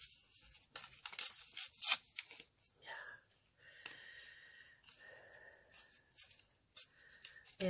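Sheets of paper torn by hand for a collage page, giving several short ripping bursts and crisp crinkles close by, with pauses between tears and a faint murmur of talk underneath.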